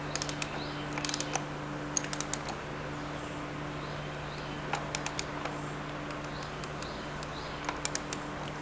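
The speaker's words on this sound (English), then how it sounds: "Big ass ratchet so I can snug this guy down." A large ratchet snugs down a bolt on BBR SP5 bike forks, producing bursts of quick, sharp clicking in several separate runs over a steady low hum, close by.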